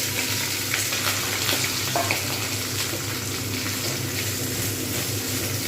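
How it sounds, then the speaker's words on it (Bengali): Sliced snake gourd fries in hot oil with black cumin seeds, giving a dense, even sizzle throughout, close and fairly loud, with faint ticks and scrapes of stirring and no talking. "যতক্ষণ পর্যন্ত না কমপ্লিটভাবে ভাজা হচ্ছে ততক্ষণ পর্যন্ত এগুলো কিন্তু ভাজতে হবে"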